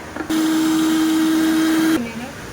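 A kitchen blender grinds pointed gourd (potol) into a paste with a steady, loud motor whine that starts abruptly and holds for nearly two seconds before cutting off, with faint household background.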